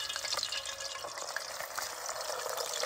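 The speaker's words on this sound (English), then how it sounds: "Just drop them in there. Let them fry for about 3 to 5 minutes." Howler fish sizzle steadily in hot oil on a DIY grill, a continuous bright crackling hiss with small pops, heard close and fairly quiet, with no talk.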